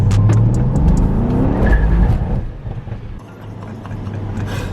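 A Mercedes-AMG car launches hard with traction control off in manual mode, its engine roaring up through the revs with tyre squeal as it bites the concrete, loud and close, then easing off toward the end.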